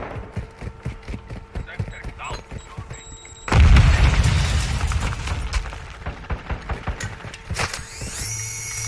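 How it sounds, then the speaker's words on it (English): A flashbang grenade goes off in the game Modern Warfare 2, a sudden heavy boom with a ringing tone after it, amid ongoing gunfire clicks and game sounds. "Flashbang."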